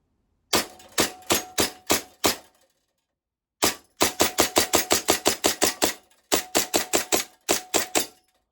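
A Tokyo Marui Hi-Capa 5.1 airsoft pistol fires at a target in three rapid strings of sharp, close, evenly spaced cracks. A short pause falls between strings, and no one speaks.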